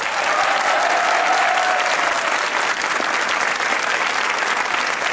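A studio audience at a comedy talk show claps in a thick, continuous wave of applause. It stays loud and uniform from start to finish.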